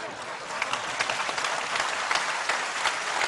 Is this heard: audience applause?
yes